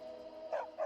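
Dog barking in the video game Skyrim: two short barks close by, following a faint steady background tone.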